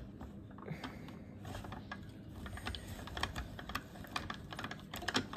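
Small die-cutting machine cranking through paper for a Valentine's card, a steady run of quiet clicking, ratcheting mechanical ticks close by with no voices.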